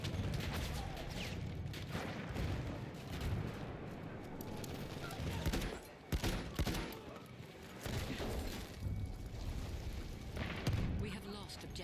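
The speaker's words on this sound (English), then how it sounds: "I think someone firing a Kolibri somewhere." Kolibri pistol shots mixed into the constant battle din of a Battlefield 1 multiplayer match, with distant explosions, machine-gun bursts and artillery rumbling throughout, and occasional talk over it.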